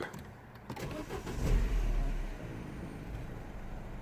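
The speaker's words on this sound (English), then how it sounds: "now I'm gonna start the engine again" A Mini One 1.4 N12 engine, after repair of rough running and stalling, cranks and catches, swelling into a low rumble, then settles into a steady, quiet idle.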